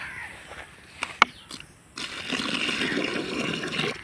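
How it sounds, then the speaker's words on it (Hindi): Water from a container is poured onto newly planted fruit saplings in a home garden: a few knocks and clunks first, then a steady splashing, rushing flow that continues to the end. "पानी डाल लेंगे"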